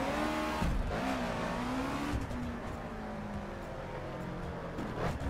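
A Subaru BRZ drifts in the racing game The Crew Wild Run, its engine droning and shifting pitch with tyre squeal layered over a steady, loud in-game roar that runs the whole time.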